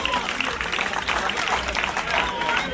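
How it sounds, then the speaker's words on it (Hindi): Steady, dense clapping from a crowd at a village gathering in Haryana, India, fairly loud and continuous throughout, with some voices mixed in underneath. "जोरदार तालियां।"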